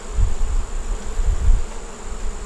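Honey bees drone steadily at a hive, a dense low buzzing close by with no talk over it.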